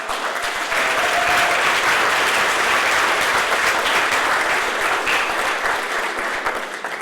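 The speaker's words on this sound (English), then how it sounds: "Yes, that deserves a round of applause." Loud, close applause at a Long Beach City College colleague awards event honoring 40 years of service: a dense, continuous roar of clapping that swells quickly and holds strong for several seconds before easing slightly.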